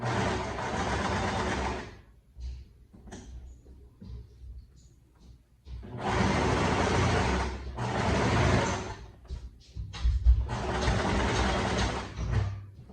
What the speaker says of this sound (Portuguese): dobradinho, e vou passar um pesponto na pontinha